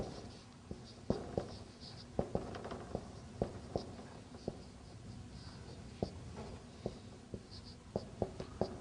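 Chalk or marker taps and scratches on a board in a quiet classroom, a run of short sharp strokes and clicks spaced irregularly, close and moderately loud with a faint room hum underneath.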